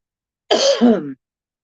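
A single short, rasping throat clear, close and distinct, lasting under a second against silence.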